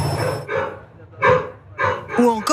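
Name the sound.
dog barking, noisy pet in apartment building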